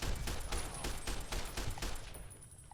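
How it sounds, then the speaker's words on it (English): Gunfire in Fallout New Vegas rattles in a rapid string of close shots that thin out near the end, with no voices. "Oh, you're shooting."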